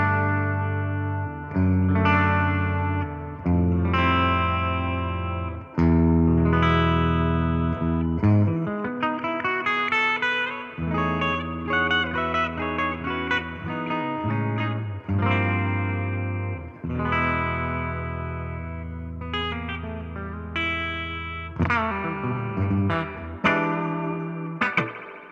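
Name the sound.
electric guitar on bridge pickup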